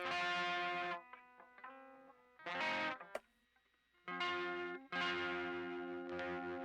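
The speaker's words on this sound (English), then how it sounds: "why does it sound like my guitar amp is going through like a tin can?" Electric guitar amp fed through a distortion pedal with a thin, tinny tone: sustained distorted chords ring in loud bursts, broken by short pauses and a brief clipped hit.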